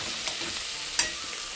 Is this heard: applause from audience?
no